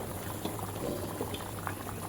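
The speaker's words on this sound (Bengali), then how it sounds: "পালটা বলক উঠে গেছে" Egg curry coming to a boil in a pot, a quiet, close bubbling and gurgling with soft pops, heard alone without any talk.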